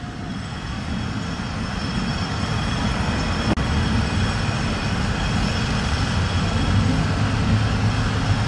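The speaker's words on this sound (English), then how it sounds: "There's another plane coming down." A heavy, continuous jet airliner engine roar fills the air at a steady loudness, with no voices, as the second plane approaches the World Trade Center's South Tower on September 11, 2001.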